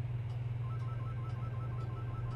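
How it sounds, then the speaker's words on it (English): A phone rings in the video game Dead Space, regular electronic ring pulses repeating about every half second over a steady low hum, faint and without talk. "Phone is ringing."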